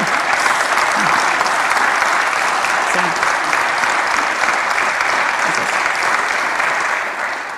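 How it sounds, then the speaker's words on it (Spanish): Loud, sustained applause from a large audience at a regional forum gathering, dense clapping filling the whole stretch without a break before easing slightly at the end. "Y acá deberían aplaudir, che,"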